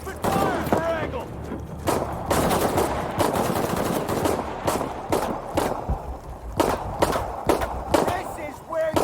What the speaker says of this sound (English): We got company! Open fire!